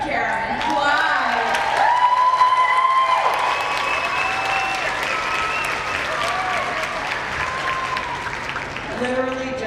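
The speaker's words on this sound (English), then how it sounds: "I'd like to get a round of applause for our brand spanking new Executive Director, Karen Clyde." An audience applauds a newly introduced Executive Director at the opening session of a conference, giving a steady burst of clapping with a few whoops while a voice talks over it.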